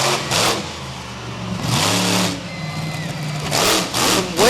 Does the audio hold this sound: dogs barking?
no